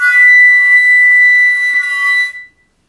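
A flute sounds one steady, clear high note in its third octave, played with a normal tone instead of a whistle tone. It is loud and close, holds for about two seconds, then stops cleanly.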